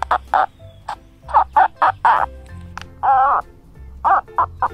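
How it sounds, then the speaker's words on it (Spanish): A homemade cup-and-string noisemaker, played by pulling wetted fingers along a wool string, gives loud, close, hen-like clucks and squawks in a quick irregular series of about a dozen pulses. "¡Wow! Suena como gallina."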